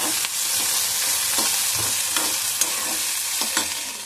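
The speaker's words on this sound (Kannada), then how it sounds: "ಈ ಕಡೆ ಬೆಂಡಿಕಾಯಿ ಹುರ್ಲಿತ್ತೀನಿ ನೋಡ್ರಿ ನೋಡಿ." Okra (bhindi) frying in a pan, a close, constant crackling sizzle broken by several soft stirring scrapes, with no voices.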